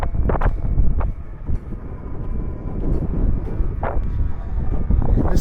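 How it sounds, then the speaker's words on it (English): Strong wind buffets the microphone in an extremely windy desert area, a continuous loud low rumble with gusty surges throughout, nearly masking everything else. "Sorry for the wind, it's extremely windy around this area."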